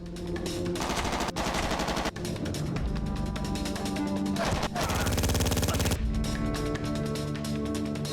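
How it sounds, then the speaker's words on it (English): Enemy gunfire in the video game Made Man, continuous rapid automatic fire with dense repeated shots heard loud and close over a steady background of game sound. "Oh, they're shooting from up there now."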